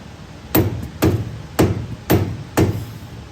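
Five sharp hammer blows ringing on a vehicle's metal tie rod, evenly spaced about half a second apart, close and loud with short metallic decay.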